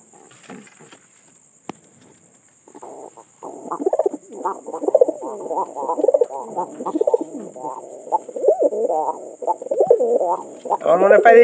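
A new pigeon, a fairly mature bird, coos repeatedly indoors in close, rolling bursts that run almost continuously, with a faint steady high whine behind it.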